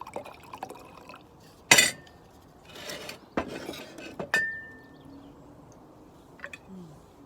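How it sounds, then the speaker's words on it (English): Navarro wine pours into a glass with a short splashing gush, surrounded by sharp glassy clinks and a few scattered drips in an otherwise quiet room. "I'll pour it right out."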